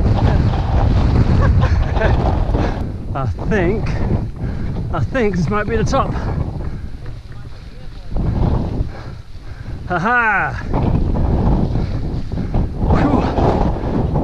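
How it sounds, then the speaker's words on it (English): Strong wind buffets the microphone on a steep mountain trail, with roaring gusts that rise and fall as hikers speak and laugh. "Pretty windy."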